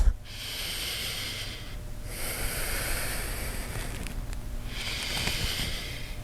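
Breathing during a yoga session comes in close, airy pulses: one long exhale, a pause, then further steady hissing breaths at a slow, even rhythm, with no voice.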